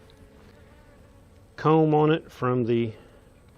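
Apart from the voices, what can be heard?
honey bees buzzing at an open hive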